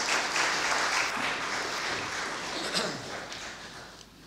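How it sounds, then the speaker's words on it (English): A church congregation at a Vigil Mass for the Second Sunday in Advent applauds, a broad steady wash of clapping that slowly fades away. "Give Eve and Elijah a big round of applause."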